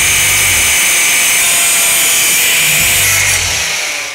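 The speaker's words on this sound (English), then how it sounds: "I'm gonna go ahead and cut that with the angle grinder." An angle grinder cuts through steel close by, a loud continuous high-pitched screech with a steady motor drone underneath that tapers off at the end.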